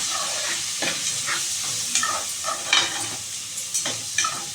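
Chilli powder and green chillies fry in a pan for a protein rice dish: a steady close sizzle broken by a string of scraping stirs, with no talking.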